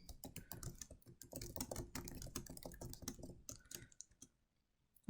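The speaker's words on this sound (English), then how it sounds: "I can type my question in there" Rapid clicking of fingers typing on a computer keyboard, close and crisp, a busy run of keystrokes lasting several seconds before stopping, then a brief final click.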